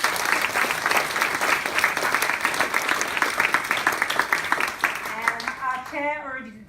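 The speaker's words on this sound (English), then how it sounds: "So please, let's give them a round of applause." A hall audience claps steadily for the hosts, Reed Smith, at a panel event on child refugees, with sustained applause thinning near the end as a few tonal electronic chirps appear.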